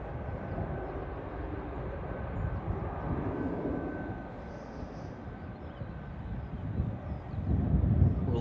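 A TUI airliner rolls for takeoff at Manchester Airport, a steady broadband jet roar heard from a distance that swells slightly toward the end, with wind rumble underneath.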